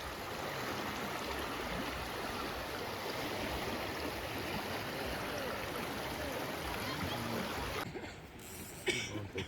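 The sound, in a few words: river flowing past rocks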